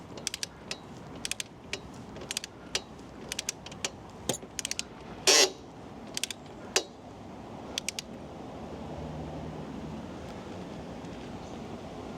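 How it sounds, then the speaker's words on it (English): A torque wrench ratchets in quick clicking bursts while tightening the rear axle nut of a Honda CB125F to 54 Newton meters, with a sharper snap partway through, then quiet mechanical rustle. "this is one time I would recommend using the torque wrench"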